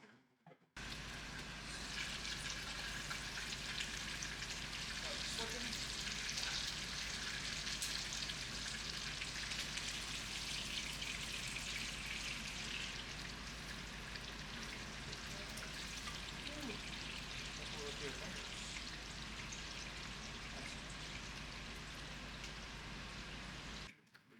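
Bacon frying in a pan for an overnight chashu-style BLT, a steady dense crackling sizzle that runs unbroken from start to finish at an even, close level.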